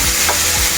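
Sliced onions frying in a pan for a simple chicken curry, with a steady close sizzle and a spoon stirring through them in brief scrapes.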